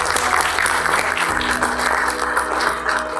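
Steady applause from an audience at a poetry gathering fills the hall, dense and continuous clapping with a low hum running beneath it.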